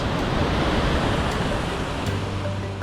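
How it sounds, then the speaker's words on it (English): Cascade Falls near Lake Tahoe, a snowmelt-fed waterfall, pours as a steady broadband rush, loud and unbroken like surf, with no voices over it. "I hear a waterfall."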